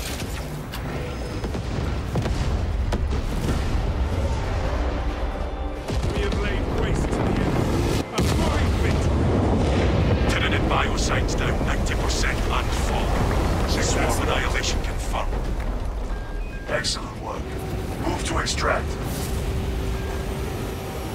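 Heavy detonation of an explosive charge in Warhammer 40,000: Space Marine, a dense roaring barrage of booms and mechanical clatter that fills the whole stretch without pause, with one sharp crack in the middle and voices mixed underneath.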